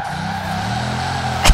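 A Bugatti Chiron set up for rear-wheel-drive drifting in the video game Forza Horizon 4 holds a loud, steady engine drone with tire noise, ending in a sharp thump.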